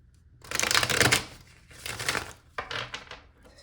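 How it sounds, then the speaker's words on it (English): Tarot cards being shuffled by hand, two bursts of crisp riffling and flapping separated by brief pauses, close and moderately loud with no speech. "Just felt like I needed to shuffle."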